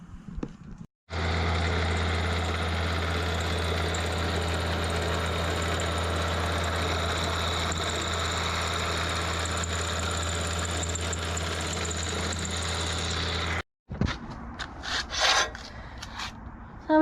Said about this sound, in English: Then we can start doing the milling